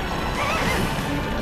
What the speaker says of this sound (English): He jumps that horse over the bridge.